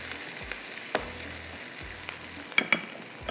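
Onions frying in a pan with beef mince, a soft, steady sizzle with a few light clicks and taps of stirring, fairly quiet and with no one speaking.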